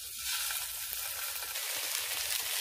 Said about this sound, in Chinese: 将啲鸡翼煎到金黄。